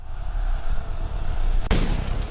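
A single loud gunshot in a staged village shootout between a Chambal bandit and police, a sharp crack partway through followed by a rumbling echo over a low, busy outdoor background with no talk.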